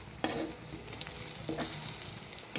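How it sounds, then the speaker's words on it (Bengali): Vegetable pakoras fry in hot oil with a continuous close sizzle, broken by a few sharp scraping strokes that land irregularly. "বাকি যেটুকু ছিল সেটাও আমি দিয়ে দিলাম। একই রকমভাবে ভেজে নেব"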